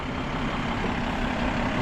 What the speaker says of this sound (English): That's the plow, the truck, the trash truck